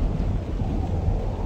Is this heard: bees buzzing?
no